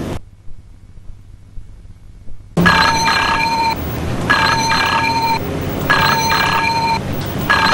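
After a short near-silent pause, a telephone bell rings in three loud, evenly spaced bursts of trilling rings, close and clear, with no voices.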